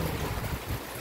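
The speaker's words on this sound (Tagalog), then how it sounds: "Lakas ng hangin." Strong wind from super typhoon Uwan gusting in a steady, roaring rush close to the microphone, buffeting it with low rumbling surges and no voices.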